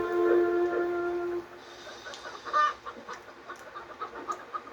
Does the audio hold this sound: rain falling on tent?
no